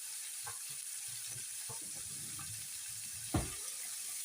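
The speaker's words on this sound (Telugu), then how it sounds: "ఈ ఉల్లిపాయలు ఎర్రగా వేగాలండి, గోల్డెన్ బ్రౌన్ కలర్ వచ్చే వరకు" Chopped onions fry in a pan with salt until golden brown, making a soft steady sizzle with a few faint stirring taps and one sharper knock near the end, quiet and without talk.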